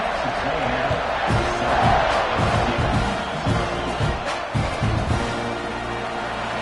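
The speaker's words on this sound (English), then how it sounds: "They're set to kick it off, and this crowd now ready to get behind them." A football stadium crowd before kickoff at an LSU game keeps up a dense, loud roar of cheering and noise, while a commentator talks over it.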